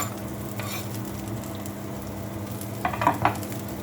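Onion and garlic frying in a pan sizzle steadily and close up over a low hum, with a couple of quick stirring clatters near the end.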